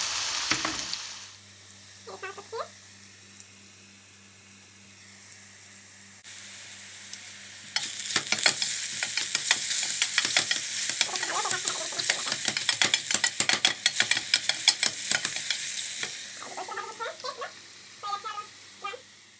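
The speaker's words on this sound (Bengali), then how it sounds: "মাশরুমগুলোকে কিছুক্ষণ তেলের উপর ভাজতে হবে" Mushrooms frying in oil in a pan, quiet at first with a few utensil taps, then a loud sustained sizzle with rapid crackling and stirring scrapes that fades toward the end.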